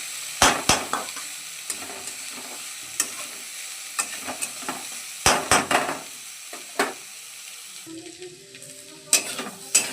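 Vegetables frying in a pan, with a steady soft sizzle broken by sharp scrapes and clinks of a spatula stirring against the metal.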